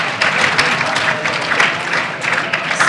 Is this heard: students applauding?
yes